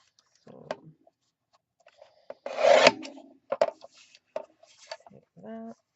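Card stock being trimmed to size for a pre-scored card base, a short burst of rasping cut near the middle amid small taps and clicks, with a person talking quietly.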